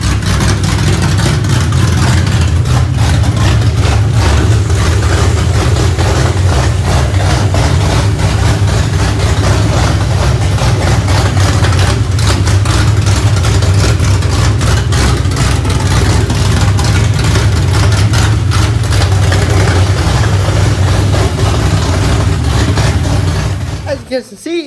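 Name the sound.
2004 Ford Mustang New Edge engine idling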